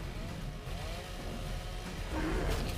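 A chainsaw cutting into an Alpha Wyvern in a video game: a steady, buzzing engine drone runs the whole time and grows louder and rougher near the end.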